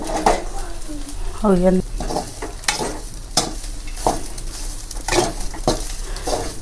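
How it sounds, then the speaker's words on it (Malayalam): Sambar bubbles in a cooking pot over a kitchen stove amid stirring scrapes and utensil clinks, while people talk throughout. "ഇതേട്ടാ ചട്ടിയിൽ കിടന്നിങ്ങനെ കിടന്നിങ്ങനെ തിളക്കട്ടെ സാമ്പാർ"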